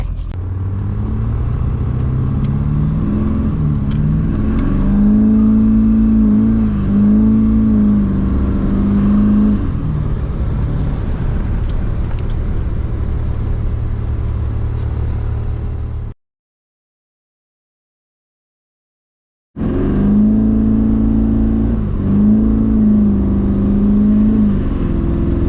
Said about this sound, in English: once we're rolling, we'll let her rip and see what kind of numbers we can produce